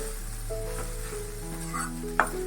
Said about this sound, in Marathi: झाकण काढते एकदम बारीक गॅस करायचा आणि मग वाफा द्यायच्या